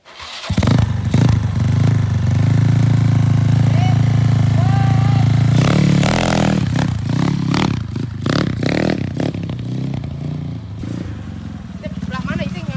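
A small motorcycle rides along a rural Sundanese village road, its engine droning steadily with revs and rattling clatter, close and loud, while people talk over it.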